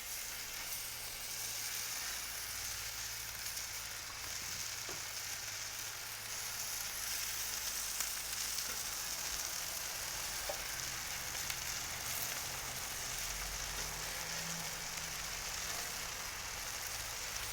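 Blackened shrimp sizzle steadily on a hot griddle turned down to medium, a continuous close crackling hiss that holds evenly throughout with a few faint clinks and no talk.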